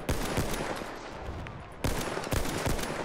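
Gunfire from several directions in the online shooter Battlefield 1, a dense crackle of repeated shots with sharp louder bursts standing out near the start and the end, continuous and busy throughout.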